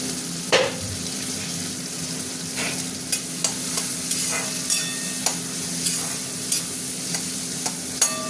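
Capsicum frying in hot oil with a little salt, a steady sizzle broken by the sharp clacks of a stirring spoon against the pan at irregular intervals.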